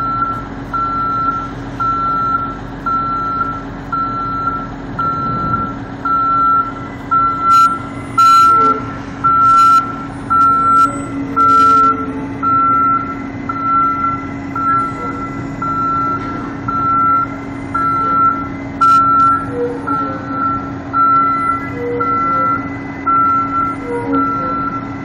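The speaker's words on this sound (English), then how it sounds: "sitting there in the middle of the road doing all this stuff while it's in reverse beeping" A Publix delivery truck stopped in the middle of a road in Lakeland, Florida, with its backup alarm beeping steadily and evenly the whole time while it reverses, over a low engine drone and faint distant traffic.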